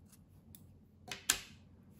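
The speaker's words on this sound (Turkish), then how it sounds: "İpliği kesiyorum." Scissors snip through knitting yarn in a couple of quick, close metallic cuts, the last one sharpest, after a few faint clicks in an otherwise quiet room.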